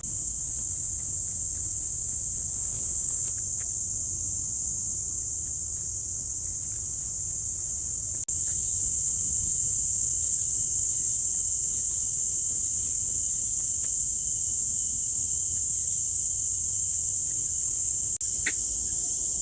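A constant, shrill chorus of many crickets chirping in Pasir Ris Park, Singapore, on a Saturday morning, droning steadily throughout with faint background rumble and no talking.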